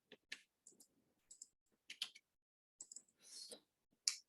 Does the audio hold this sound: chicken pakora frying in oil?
no